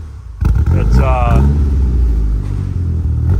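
A 2G DSM Mitsubishi Eclipse GSX with a suspected fuel pressure or MAF fault takes a sharp throttle jab, its engine rising briefly in a loud rumbling rev and then sagging toward stalling, close up with a person talking over it.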